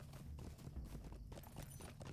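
Taxi horse in LOTRO trots with a steady, rhythmic clip-clop of hooves, moderately close, over a low background hum.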